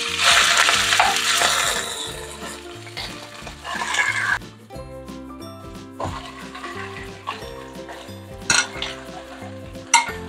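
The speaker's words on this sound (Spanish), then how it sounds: "Ya le vamos a poner el bistec." Beef steak hits a hot oiled pan with a loud sizzle that fades to a steady fry, joined by metal utensil scrapes and clinks against the cookware.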